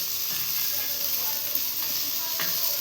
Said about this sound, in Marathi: इथे आपली मच्छी पण फ्राय झालेली आहे